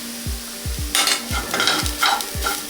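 Methu vadai upma with egg cooking on a medium flame in a pan: a steady soft sizzle, with several short scraping stirs and low spatula knocks, close and alone.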